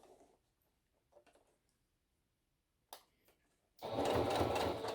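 A sewing machine stitches a face mask, with a few soft clicks and taps first, then a loud, steady motor whir starting near the end.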